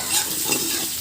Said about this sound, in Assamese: ধুনীয়াকৈ মই এতিয়া লৰাই থাকিম।